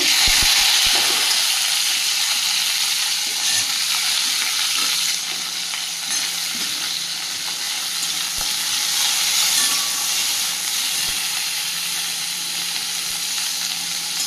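Okra (bhindi) frying lightly in a hot kadai, a loud continuous sizzle and hiss with a few stirring scrapes near the start, steady throughout.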